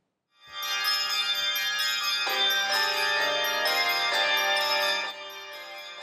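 A handbell choir rings many bells together in a sustained, shimmering chord progression, bright and resonant, close and fairly loud with no talking.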